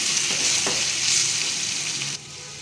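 Steady loud sizzling of brinjal and tomato frying in a pan with chilli and coriander powder, with a few scraping stirs near the start, then the sizzle drops slightly.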